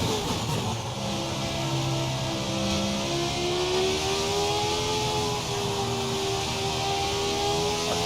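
A stock car engine accelerating through a lap: loud, sustained engine tone rising in pitch, with a brief dip at a gear change before climbing again, steady and close.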